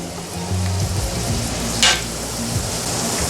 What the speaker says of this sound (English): Now we'll let it simmer for about 10 minutes.